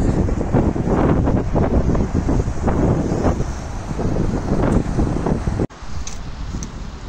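Strong wind buffets the microphone in a loud, continuous roar, briefly cutting out near the end.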